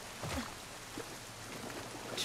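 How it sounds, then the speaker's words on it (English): Steady rainfall in The Last of Us Part II, a faint continuous patter of drops on surfaces with a few soft thuds, heard alone without talk. "I mean, it's raining."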